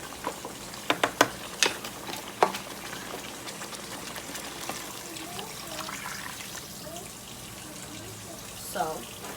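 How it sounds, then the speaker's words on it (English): Four cups of water poured into a pot of Mexican red rice make a soft, steady trickle and splash, with a few sharp clinks early on and a faint knock near the end. "I'm going to add the other 4 cups of water"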